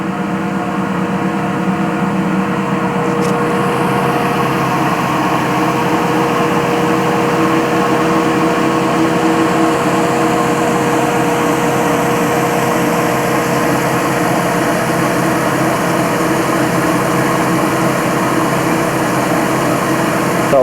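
Small Marjanova hydroelectric power plant turbines, driven by mill-stream water, give a constant loud broadband hum and whir with steady tonal lines, unbroken throughout with no voices.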